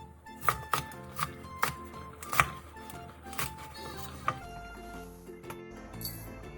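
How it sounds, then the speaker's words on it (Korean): A knife slices two Cheongyang green chilies and one red chili diagonally on a cutting board, giving a few sharp, irregular taps that are fairly quiet with music underneath. "청양고추 2개와 홍고추 1개를 어슷썰게 해주세요."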